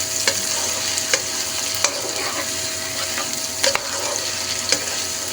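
Beef and cauliflower curry with cabbage frying in a pan, a steady loud sizzle broken by sharp scrapes as it is stirred and turned over a few times, with no talking.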